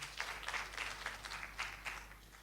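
Audience applause at a Faso Academy talent competition round in Tenkodogo: a fairly quiet, steady patter of many hands clapping, rising and falling slightly for a couple of seconds.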